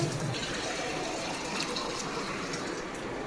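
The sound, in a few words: water poured into braised meat curry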